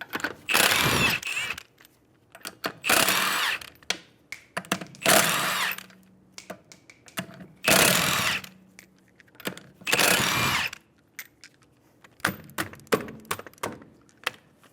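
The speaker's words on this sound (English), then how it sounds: "Using a 21mm socket, remove the 5 lug nuts." A power tool with a 21mm socket takes the five lug nuts off a 2011-2014 Hyundai Sonata wheel: five loud, close bursts of whirring and rattling, each about a second long and separated by pauses, with small clanks in between.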